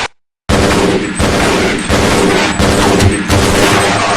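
Loud, dense gunfire from the video game Half-Life: Blue Shift: sustained automatic bursts broken by brief gaps, after a short silent moment at the start.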